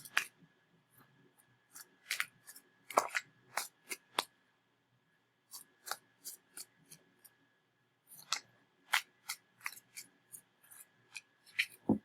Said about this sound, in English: I am going to go ahead and shuffle for the outcome card.